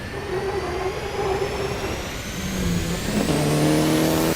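A 2015 Subaru WRX STi engine revs on the Isle of Man, climbing steadily in pitch and growing louder over a few seconds, then dropping briefly before rising again, with no voices.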